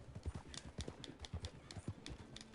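Video game horse hooves clip-clop in a steady, even trot, moderately loud and close over a soft background bed.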